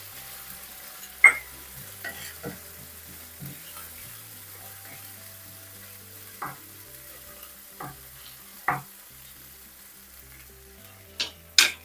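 Chili powder and cumin fry in a pan with a low steady sizzle, broken by scattered scrapes and knocks of a utensil stirring, close and fairly quiet.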